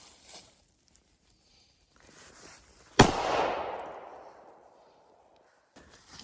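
A single loud gunshot at an outdoor shooting range, a sharp crack followed by a long echoing decay, with faint rustling and movement before and after.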